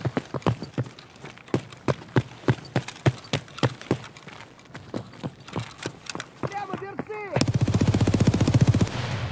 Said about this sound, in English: Bunch of shots out back.